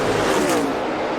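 Martin Truex Jr.'s NASCAR race car on the final lap at Charlotte, a loud sustained engine roar sweeping past at speed with a brief falling pitch, crowd and track noise wrapped around it.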